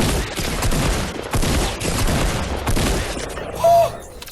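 Shotgun blasts in the Fortnite video game, a dense run of loud gunfire and explosive bursts filling the clip, ending in a short louder hit with a ringing tone.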